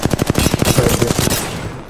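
Rapid automatic gunfire from an Apex Legends firefight, a dense burst of closely spaced shots for over a second and then a fading tail.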